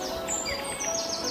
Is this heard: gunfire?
no